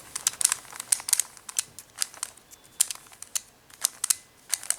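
A clicky Skewb puzzle cube being turned, giving a quick run of sharp, dry clicks and snaps in uneven bursts, close and fairly faint, with no voices.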